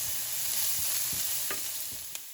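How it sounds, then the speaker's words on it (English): Onion sautéing in cooking oil in a pan: a steady close sizzle with a few scraping stirs of a utensil and a couple of soft clinks, no voices. "Let's wait till the onion is translucent and we'll add the remaining ingredients."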